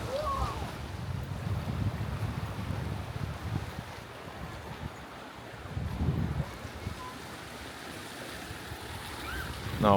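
Strong wind buffets the microphone in loud, rumbling gusts, with waves washing in the background outdoors on a seaside promenade in Orebić, Croatia.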